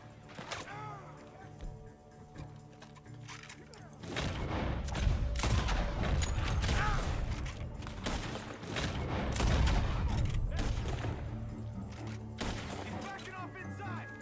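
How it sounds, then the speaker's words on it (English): Gunfire from a barn in Red Dead Redemption 2 breaks out as loud, irregular shots and crashing impacts, dense after the first few seconds, with game music and brief speech mixed in. "Gunshots are coming from that barn."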